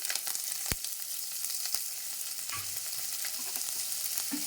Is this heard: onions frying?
yes